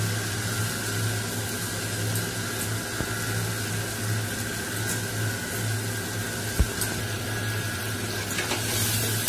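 Rice and lentils hiss faintly as they go into a pot for khichuri, a soft, steady sizzle over a constant low hum with an occasional small knock.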